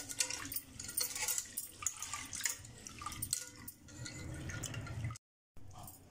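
Toor dal lentils are rinsed with water inside a pressure cooker, giving soft, quiet sloshing and trickling with a few drips, broken by a brief silent gap near the end.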